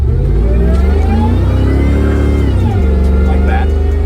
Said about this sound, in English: when it does spin those rear tires, it continues to track straight